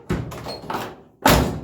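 A square-body Chevy truck door is shut, then shut again, with a faulty door striker: a few close, hollow thuds and knocks, ending in a firmer slam after a short pause.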